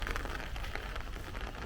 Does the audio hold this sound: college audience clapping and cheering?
no